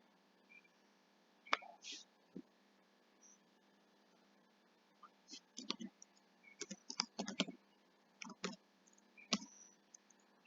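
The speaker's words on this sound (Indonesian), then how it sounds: "kita ketikkan nama penerbit" A computer keyboard used to enter a publisher's name into library software, giving faint, sparse key clicks in small irregular clusters over a quiet background.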